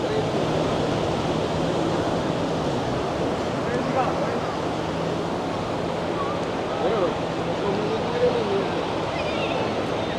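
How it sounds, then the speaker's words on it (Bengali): Large sea waves break steadily on the beach at Cox's Bazar, a continuous loud wash of surf with wind noise on the microphone, and faint crowd voices mixed beneath the roar. "সমুদ্রের কি বিশাল বিশাল ঢেউ"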